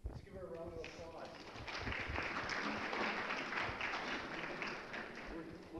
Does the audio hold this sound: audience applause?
yes